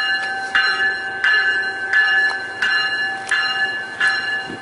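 A Metrolink commuter train passes with its warning bell clanging in a steady, repeating rhythm of loud strikes over rolling wheel and engine noise, close by at a station.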